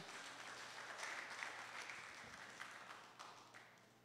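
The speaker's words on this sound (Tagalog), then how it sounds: "malakas na palakpak para sa ating Panginoon." Congregation applauding at a church celebration service, a moderate, fairly distant wash of clapping that swells and then tapers off over a few seconds.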